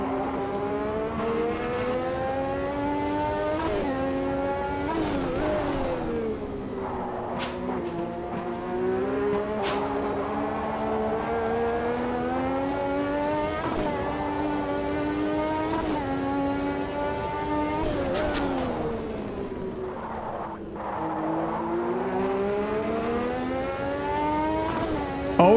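A McLaren MP4/4 race car engine howls at Imola in a racing game. The high-revving note climbs and drops with each gear change and braking zone, loud and continuous, with occasional sharp clicks and no voices.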